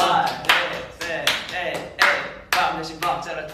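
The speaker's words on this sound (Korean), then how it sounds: "박수 쳐주세요." Group of K-pop idols clapping hands in time during a live broadcast, sharp claps landing in a steady beat about every half second, near and loud, with other voices chatting faintly underneath.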